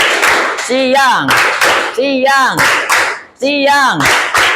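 A group of students claps in unison during a call-and-response clapping exercise led by a teacher, rhythmic bursts of claps repeating under loud chanted voices.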